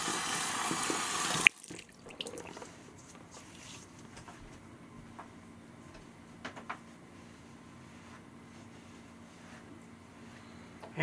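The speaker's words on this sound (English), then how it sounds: "Let's rinse." A bathroom tap runs loudly for rinsing for about a second and a half, then shuts off, leaving a quiet room with a few faint drips and small clinks.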